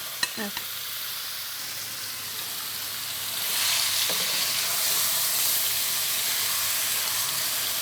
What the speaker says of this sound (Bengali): আমাদের মশলাগুলো আমরা একটু ফ্রাই করে নিয়েছি জি এখন আমরা এটা ঢেলে দিব বিফটা ঢেলে দিব